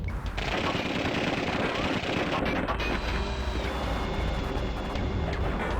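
Bombs exploding in the Fighters Anthology flight combat game, with a loud, dense rumble and rapid crackling bursts over continuous jet engine roar and background battle noise.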